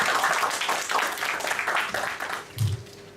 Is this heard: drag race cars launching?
no